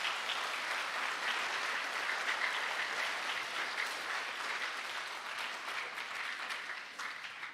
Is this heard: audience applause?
yes